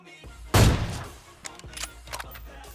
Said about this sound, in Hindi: तभी वहाँ से फायरिंग होती है